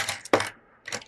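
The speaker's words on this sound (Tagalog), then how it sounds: "Bilangin pa natin yung barya." Coins clink and drop as they are counted by hand, giving two or three sharp, close metallic bursts with a brief quiet gap between them.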